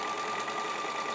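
A sewing machine runs steadily while stitching a quilt block seam, a continuous close whirring hum with no pauses and no voices.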